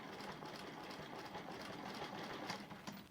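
A sewing machine stitching across a quilt, a fast continuous mechanical whir with a rapid even rhythm, faint and close, with no talking.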